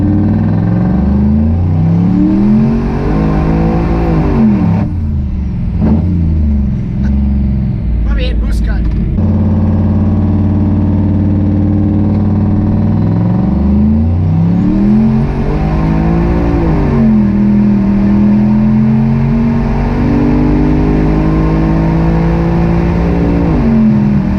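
A car fitted with a GT45 turbo revs hard through a 3-inch dump pipe instead of the full exhaust, giving a loud, sustained engine roar that rises and falls through gear changes across the whole stretch.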